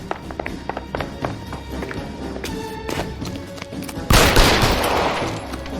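Scattered sharp gunshots and footsteps in L.A. Noire, followed near the end by a louder, sustained burst of gunfire, close and punchy.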